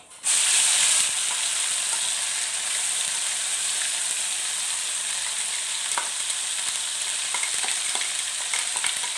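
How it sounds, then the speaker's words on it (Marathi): Mixer-ground masala paste hits hot oil with cumin and bursts into a loud sizzle, which settles into a steady frying hiss with occasional stirring scrapes and clinks, close and with nobody talking. "तेलामध्ये मी थोडंसं जिरं टाकलं आणि हा जो मिक्सरला ग्राइंड केलेला मसाला आहे ना तर तो याच्यामध्ये मी ॲड करते"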